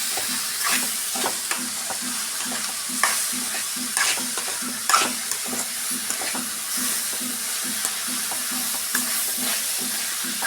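Mushrooms sizzle in a pan for a home-style curry while a spoon stirs them, giving a constant hiss broken by regular scraping strokes and light knocks, close up with no voices.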